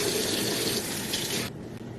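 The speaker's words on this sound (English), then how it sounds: "I'm gonna wash my hands really fast." Running tap water splashes steadily while hands are washed at a kitchen sink before cooking, loud and close for about a second and a half, then cuts off abruptly with a brief clatter at the end.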